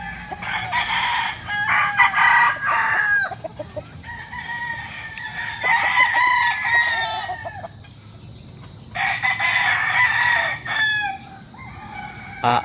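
Gamecock roosters at a farm in Barangay Santor, Tanauan City, Batangas, crow repeatedly, several overlapping calls near and far, with short pauses between bursts.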